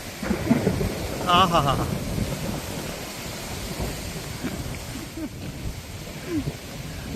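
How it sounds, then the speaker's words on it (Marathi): A May thunderstorm with rain on the Nigda Ghat mountain pass toward Maharkhind, with low, rolling thunder and a steady rain wash throughout, while a person laughs and talks over it. "आला आला आला पाऊस आला"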